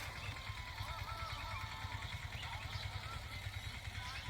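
A low, chugging tractor engine idles with a steady pulsing rhythm on a farm before pesticide spraying, fairly faint, with a voice murmuring in the background.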